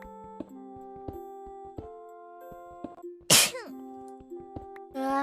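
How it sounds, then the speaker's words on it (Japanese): A single sharp sneeze from a VTuber bursts out midway, loud and close, over steady tonal background music. "あ、待って、くしゃみです、また。"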